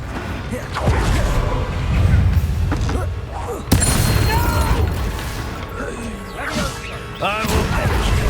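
An Incendio fire spell cast in the Hogwarts Legacy video game, a loud burst of crashing impacts and whooshing fire with a sharp hit midway, busy game sound effects and some voice-like tones underneath.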